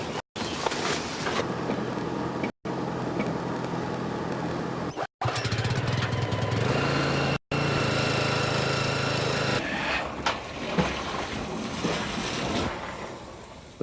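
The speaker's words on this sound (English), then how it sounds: "I'm just going to start motor and be into it." The motor of a pest control spray rig runs loudly and steadily, a dense droning hum with a brief dropout now and then and a change in tone partway through.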